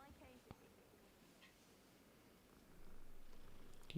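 A cat in the game Hogwarts Legacy purrs softly and faintly under a quiet background, with a voice briefly talking over it.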